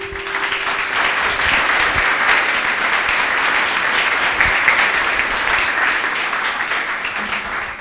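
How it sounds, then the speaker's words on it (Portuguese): Church congregation clapping their hands in praise at a worship service, a dense, steady wash of applause filling the room from start to finish with no talk over it. "Louve ao Senhor com suas palmas"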